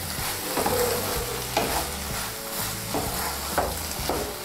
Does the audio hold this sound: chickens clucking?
no